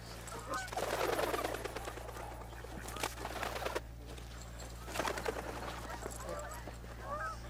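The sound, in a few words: geese and waterfowl calling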